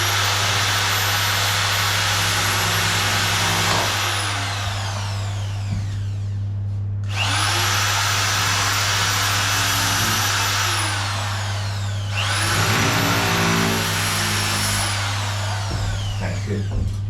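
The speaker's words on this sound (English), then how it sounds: "I'm just going to take out a tiny bit just on the top with the sander" A power sander grinds loudly against a wooden panel in long sustained passes, briefly dropping out twice before resuming, over a constant low hum.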